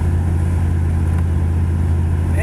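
A 2001 Dodge Ram 2500 pickup cruises at around 50 in two-wheel drive on a wet, slushy road, its steady low engine drone and tire roar filling the cabin continuously with no talking.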